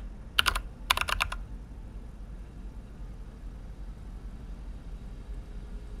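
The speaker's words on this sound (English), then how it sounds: "Type stuff into the computer." Two short bursts of quick computer-keyboard keystrokes in a late-night data-transfer video game, crisp and close, followed by a quiet low hum for the rest of the clip.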